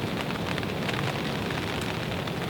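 Steady rain falls at a fishing lake, a dense even patter on surfaces that fills the whole stretch with no voices.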